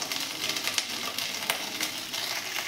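Small soybean chunks fry with ginger paste in a pan, giving a dense continuous sizzle with brief stirring scrapes, close and fairly loud, no voices.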